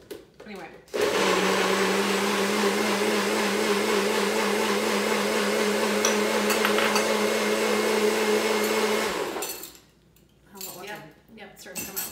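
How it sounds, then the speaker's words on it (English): A countertop blender, not a Vitamix, whirs loudly and steadily for about eight seconds as it purees a cashew cheese sauce, then cuts off, leaving kitchen clatter and some quiet talking. "So we can go ahead and blend that."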